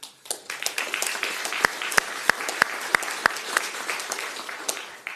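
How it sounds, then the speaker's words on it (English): Audience applause at a county commission meeting in an indoor chamber, steady clapping from a crowd with a few louder individual claps standing out near the microphone, no talking over it. "They applauded when they said my name, but the applause needs to be for the staff."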